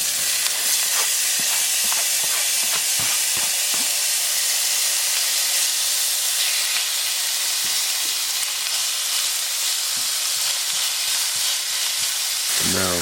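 Onions hit hot olive oil for house fried rice and sizzle loudly and continuously, with the crackle holding steady throughout and scattered clicks of stirring on top.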